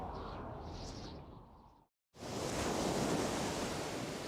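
Steady broadband wash of ocean waves in a video game, loud and continuous, breaking off into a brief moment of silence before the surging wave noise resumes.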